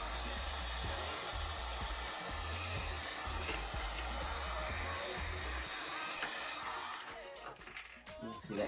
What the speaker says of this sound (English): that heat gun really allows me to move through my work